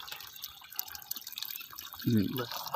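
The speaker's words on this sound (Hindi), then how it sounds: "तो ये फॉर्मलिन का वाटर डाल रहे हैं" Formalin water poured onto casing soil for button mushroom growing gives soft, close trickling and dripping with a fuller splash near the end, while someone talks in the background.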